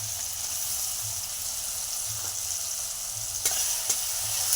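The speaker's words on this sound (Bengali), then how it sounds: "সাদা জিরে দিয়ে পেঁয়াজ টমেটোটা একটু ভাজা ভাজা করে নিচ্ছি।" Onion and tomato frying in oil with cumin seeds give a continuous, even sizzling hiss close by, with a soft low hum underneath and a couple of faint utensil taps near the end.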